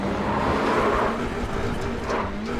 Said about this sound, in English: I want to listen to the engine as well.